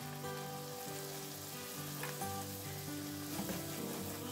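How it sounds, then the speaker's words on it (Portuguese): Wheat flour frying in butter in a pan, giving a steady close sizzle and bubbling hiss throughout with no voices. "E vou deixar ela dar uma fritada junto com a manteiga."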